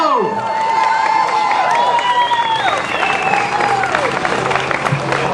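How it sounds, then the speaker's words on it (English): A crowd at the Chico Icon Awards reunion gives loud, sustained applause for Flo, with cheering and shouts. Voices and whistle-like calls rise above the steady clapping. "let's give a big round of applause to Flo"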